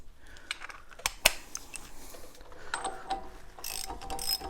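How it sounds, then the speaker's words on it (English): A socket ratchet clicks in short bursts while snugging a wheel hub bearing bolt on a Mazda CX-9 or Ford Edge, with one sharp metallic knock partway through and scattered clinks of tools nearby. "just use a socket and tighten it up a little bit"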